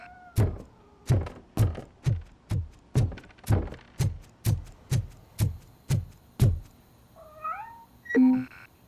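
A cat in the Robocop Rogue City video game meows about a dozen times in a steady, evenly spaced series, each call loud and close, followed by a brief electronic chime and a dull thump at the end.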